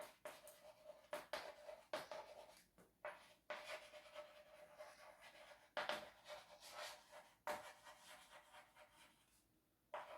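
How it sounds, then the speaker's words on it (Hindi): Chalk or marker scratching across a board as an equation is written out, a run of short rubbing strokes with brief pauses, close and fairly quiet with no talking. "यहां लिख देती हूं"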